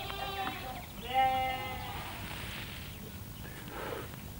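Billy goats in a field bleat in a few drawn-out, wavering calls, one loud and near, with quieter bleats after it and a low background murmur.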